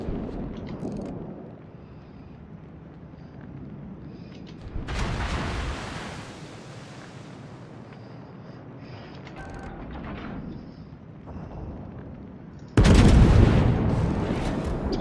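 Heavy naval guns firing in World of Warships, with broadband booms around five and thirteen seconds against a constant low rumble of battle ambience; the later salvo is loud and sustained, the earlier one shorter.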